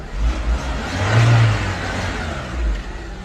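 A car engine rises and falls in a few revs as the driver presses the gas, a faulty car that won't pick up speed, with a steady mid-pitched drone and no talk.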